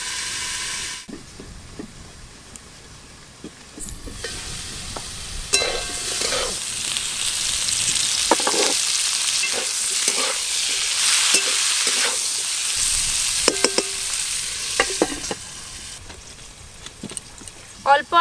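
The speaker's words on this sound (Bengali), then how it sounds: "চাপা দিয়ে দিয়ে খুব ভালো করে ভাজব।" Salted, turmeric-coated potato and bitter gourd pieces sizzle steadily in a hot pan while being stirred and pressed down, with intermittent spatula scrapes and taps over the continuous hiss.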